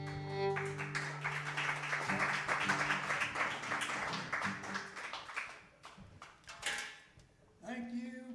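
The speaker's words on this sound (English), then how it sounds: "Thank you for your applause" Audience applause at a live country concert in a club, a dense patter of clapping that swells and fades over several seconds, with lingering musical tones underneath.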